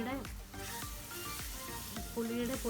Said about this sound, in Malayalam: ഈ സമയത്ത് നമുക്ക് പുളി ചേർത്ത് കൊടുക്കാം.